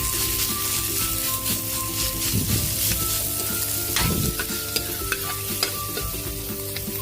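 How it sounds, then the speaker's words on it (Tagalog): Ground meat tipped into a hot pan with sautéed onion and stirred, giving a steady close sizzle with scraping spoon strokes and bursts of louder frying as the meat hits the oil. "lagyan na rin natin yung ating giniling."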